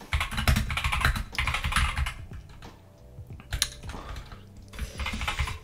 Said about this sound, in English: Got a very noisy keyboard.